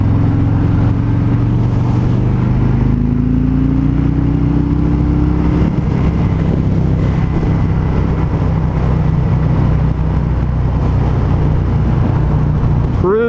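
A 2020 Harley-Davidson Road King Special cruising at about 60 mph in third gear, a loud, steady low engine drone mixed with heavy wind rush, continuous throughout.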